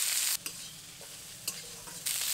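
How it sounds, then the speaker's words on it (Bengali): Chopped pointed gourd leaves are stirred into browned fried onions in a hot pan, a spatula scraping in a few distinct strokes over a steady sizzle that quiets between stirs. "এখন এই কেটে রাখা পটল পাতাগুলো দিয়ে দেব। এবার ভালো করে নাড়াচাড়া করে নেব।"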